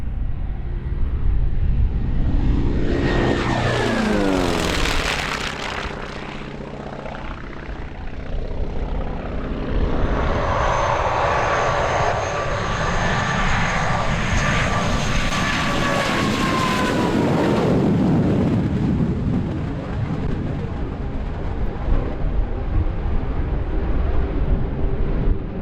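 A T-28 warbird with a radial propeller engine roars past at the EAA AirVenture Oshkosh 2023 airshow, rising loudly with a Doppler sweep as it nears, then fading into a sustained drone as the aircraft circles away.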